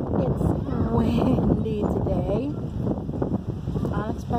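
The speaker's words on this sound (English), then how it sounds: "It's windy today, unexpectedly." Strong gusting wind buffets the microphone at an outdoor park on a cold day, a loud continuous rumble beneath people's voices talking throughout.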